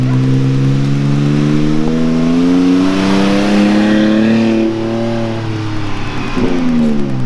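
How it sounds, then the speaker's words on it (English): A Toyota Tacoma pickup with an MBRP aftermarket exhaust rumbles past close by with a deep, throaty note, engine rising then falling as it passes, loud and continuous. "All right, guys, here's a drive-by."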